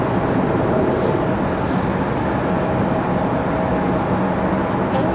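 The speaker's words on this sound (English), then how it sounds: "UPS landing over on 3-2." Airliner landing at Raleigh-Durham International Airport, a steady broadband jet roar that holds constant and fairly loud throughout with no talk over it.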